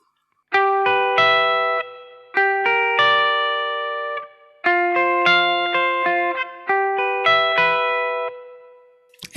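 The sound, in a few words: guitar through clean rectifier amp with natural reverb, Kemper Profiler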